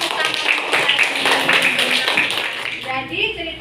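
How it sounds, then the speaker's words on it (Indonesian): Classroom of students clapping their hands together in applause for a few seconds, a close, bright patter of claps with a voice speaking over it near the end. "Iya, tepuk tangan."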